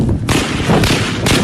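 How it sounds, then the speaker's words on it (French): Heavy blasts from suicide attackers' explosions and bursts of automatic weapon fire during an attack in Mali, sounding as loud, broadband booms and crackling bursts with sharp onsets around a quarter second and again near one and a quarter seconds. "des explosions kamikazes suivies de rafales d'armes automatiques ont arraché les populations à leur quiétude"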